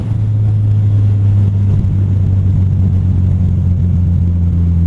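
A Kawasaki Z1000 motorcycle engine drones steadily while riding in fourth gear, a loud, even low-pitched hum alone with no talk.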